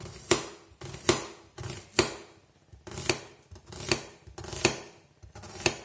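A knife finely chops onion on a board in a series of about eight crisp, close strikes at a fairly regular pace, some falling in quick pairs, with no talking over them.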